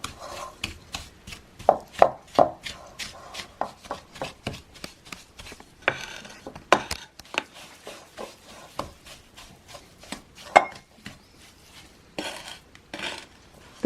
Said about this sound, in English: Cream the butter with the sugar.